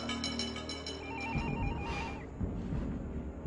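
A telephone bell rings in a rapid repeating trill for just over a second, then stops, leaving a busy background with a faint melodic electronic tone.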